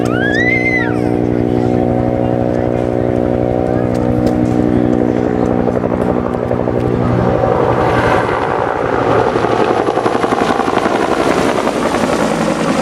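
Helicopter at a Vietnam War reenactment, a loud, steady rotor thump and turbine whine close by that grows rougher and more chopping as it goes on, without a break.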